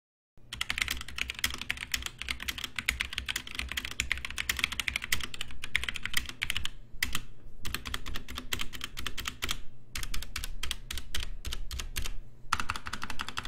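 Typing on a PICTEK PC173 mechanical gaming keyboard: a dense, steady stream of crisp, close key clacks that run on for several seconds with a few short pauses, alone without any talk.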